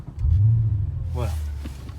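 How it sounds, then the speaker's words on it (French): Audi RS4 engine rumbling from inside the cabin, a steady low drone that swells briefly, with a voice speaking over it. "comme ça on entend bien le bruit de la voiture"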